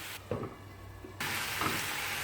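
Ground tomato paste sautéing in hot oil for a chickpea masala, a soft steady sizzle with faint stirring scrapes, a quieter stretch in the middle before the frying hiss swells back up.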